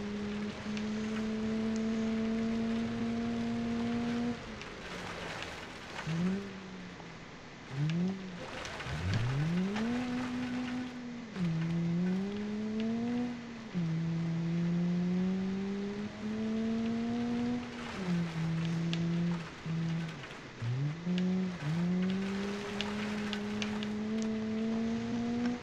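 A car engine in BeamNG Drive on a Pikes Peak gravel course revs hard through repeated gear shifts, its pitch climbing, dropping and climbing again over steady tire and gravel noise, loud and close.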